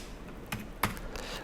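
Two quiet, distinct key clicks from a computer keyboard sound about a third of a second apart, with no voices.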